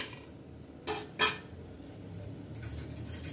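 Two sharp clinks of a metal utensil against a pot while lemon-and-onion pepper curry is served, standing out against a quiet kitchen background.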